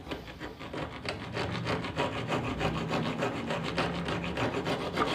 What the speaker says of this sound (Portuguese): Eu vou comer quinas primeiro, com a grossa